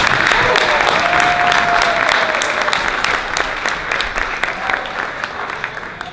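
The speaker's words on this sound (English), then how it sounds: "And I want a round of applause for everybody." Wedding guests break into loud, sustained applause at a reception toast, a dense crowd of clapping hands that slowly thins out toward the end.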